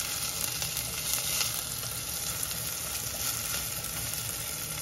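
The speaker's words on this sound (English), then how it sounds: "A couple minutes in, your pan should be sizzling." Shallots frying in hot oil in a pan over medium-high heat give a steady, close sizzle with a bright hiss and small crackles, alone without talk.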